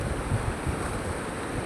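Waves washing onto the beach at Manly, Sydney, Australia, a constant low roar of surf mixed with wind buffeting the microphone, steady and without talk.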